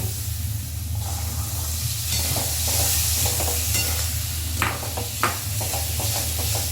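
Peas and masala sauté in a hot pan for matar paneer, a continuous loud sizzle with soft stirring scrapes and a few sharper spoon knocks toward the end.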